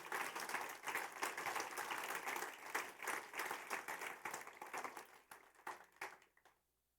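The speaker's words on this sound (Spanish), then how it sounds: "Denle un aplauso fuerte a Jesús." A church congregation applauds loudly and steadily during a sermon, the dense clapping holding for several seconds before thinning into scattered claps and fading to silence.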